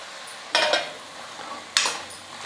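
Brinjal and cooked green pigeon peas sautéing in a pan, two short bursts of stirring and sizzling scrape over a quiet background, close by, with no talking.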